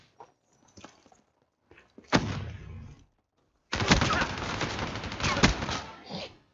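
Bursts of rapid automatic gunfire from a shooter video game, a short burst followed by a longer sustained volley, loud and close, with faint voice fragments between shots.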